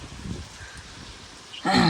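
Steady rain falls outdoors in the countryside as a soft, even hiss, then swells into a louder, denser rush right at the end.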